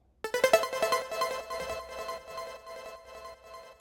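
A tweaked Serum preset synth pluck for new school trance rings out in a quick run of bright, staccato notes that gradually thin and decay into a sustained tail, heard alone without talk.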